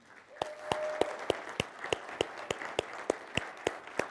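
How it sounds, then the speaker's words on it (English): A small conference crowd at an infosec talk gives a round of applause for Hannah, sparse individual claps spaced through the span, fairly faint and roomy, with a brief tonal hum near the start. "Everybody needs to give her a big round of applause"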